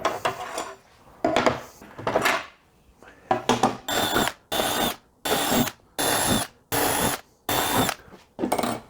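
A power drill runs in short bursts, a few uneven whirs followed by a regular series of about seven sharp drilling pulses with brief pauses between.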